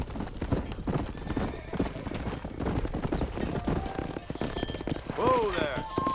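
Hooves pound in a rapid clip-clop as a herd of horses gallops down a road in the Red Dead Redemption video game, with a clear neigh near the end and shouted voices mixed in.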